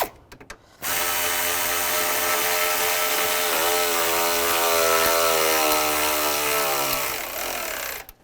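A power tool whirs continuously for about seven seconds while tightening the bolt on the cooler line bracket of a 2006-2011 Cadillac DTS radiator, close and loud, with a brief rattle before it starts and a short stop at the end.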